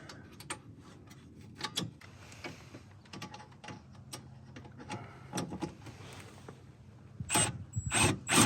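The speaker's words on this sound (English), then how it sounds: "Run our hub bolts back through." Hub bolts are run back through the rear hub of a 2013 Subaru Impreza, with a series of sharp metallic ticks and clicks at irregular intervals, growing louder near the end.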